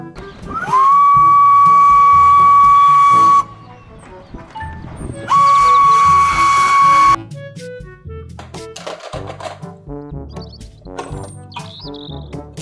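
A Thomas toy train gives a steam whistle, two sustained steady whistle blasts, the first about three seconds long and the second shorter, loud and close, followed by light plinking music.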